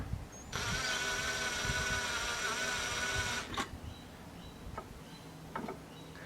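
A drill whirs steadily for about three seconds through a Jeep roof, then stops, followed by a few faint clicks and taps.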